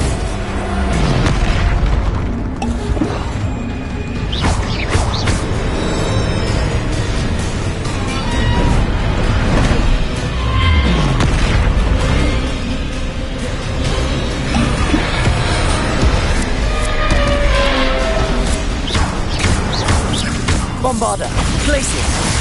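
Spell explosions boom repeatedly in the Hogwarts Legacy video game, the Bombarda blast among them. Loud, dense bursts, crashes and whooshes run almost continuously over game noise throughout.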